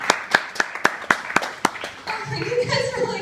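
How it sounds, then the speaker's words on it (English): Audience at a stand-up comedy show gives a short run of evenly spaced, crisp claps, about eight in a row, before the comedian starts talking again. "You guys are like actually clapping for me being close to it."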